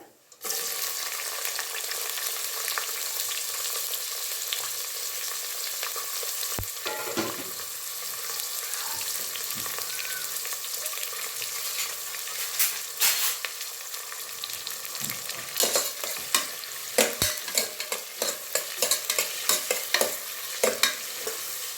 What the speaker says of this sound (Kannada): ಈರುಳ್ಳಿ ಎಣ್ಣೆನಲ್ಲಿ ಚೆನ್ನಾಗಿ ಫ್ರೈ ಆಗಲಿ